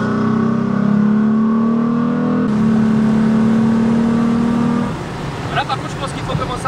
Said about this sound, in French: sur cette accélération qui fait un très beau bruit